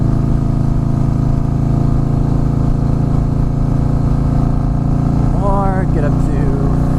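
A Harley-Davidson Fat Boy S with a Vance & Hines slip-on exhaust runs at low throttle, a loud, steady, throbbing engine drone with a faint rising tone near the end, under close talk.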